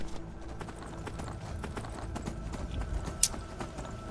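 Hooves of the horse Shadowmere clip-clop at a steady walking rhythm in the video game Skyrim, moderately near and continuous, with one sharp high click near the end.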